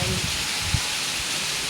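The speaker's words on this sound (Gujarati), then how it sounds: "બહુ મસ્ત વરસાદ છે" Dense, steady heavy rain pours down in Surat, India, in a constant hiss, broken by a few soft low thuds.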